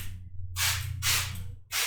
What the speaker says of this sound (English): So I'm going to come along and spray it.